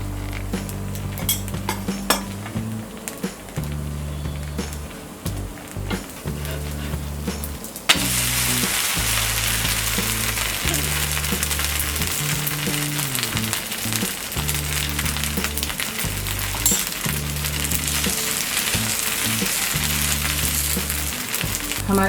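Samo rice fasting dosa frying in oil on a tawa, a steady close sizzle that grows louder and denser partway through, with occasional utensil clinks and no talk.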